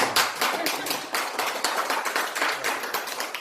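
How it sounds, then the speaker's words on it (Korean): Audience at a Buddhist monk's lecture on Chinese characters clapping steadily, a thick continuous patter of many hands in a room, moderately loud and without talk. "박수 치셔도 됩니다."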